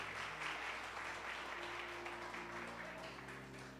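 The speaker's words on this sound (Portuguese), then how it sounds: "Pode aplaudir." A church congregation claps steadily through a sermon on blind Bartimaeus, a faint, diffuse wash of many hands with a sustained tonal hum underneath.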